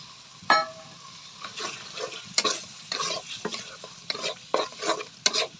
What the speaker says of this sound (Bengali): নারকেল এখন দিয়ে দিচ্ছি, ভালো করে হচ্ছে নারকেল ভেজে নেব।